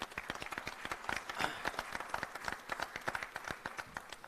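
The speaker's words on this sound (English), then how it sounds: "let's have a round of applause for TAC first" Scattered hand claps at an inauguration ceremony for an industry expo, moderately loud, distinct and uneven, forming a thin round of applause with no talk over it.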